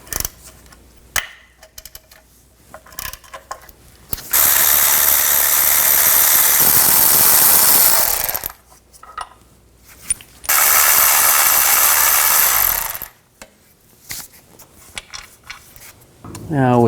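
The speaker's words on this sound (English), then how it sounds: "Use a 15mm socket to take these out." Ratchet fitted with a 15mm socket working bolts loose on a 2009-17 Chevy Traverse, two long steady buzzing runs of the tool up close, separated by brief clicks and handling noises.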